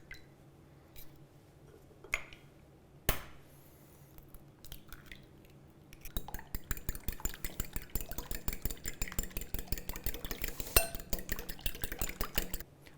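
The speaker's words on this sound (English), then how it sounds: "So I'll crack 2 eggs and give them a good whisk." Two eggs cracked into a bowl with a few scattered taps and cracks, then a fast, steady whisking with a continuous rattle of clinks against the bowl for several seconds, close by and with no talk.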